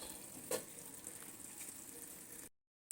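Onions frying in a pan for a chicken tahari: a quiet, steady, hissing sizzle with one brief clank near the start, and no voices.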